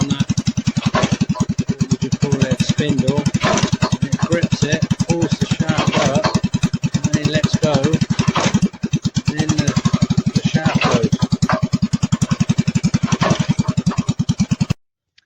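A water-well drilling machine's engine runs steadily close by, a loud rapid thumping putter with a brief dip near the middle before cutting off at the end.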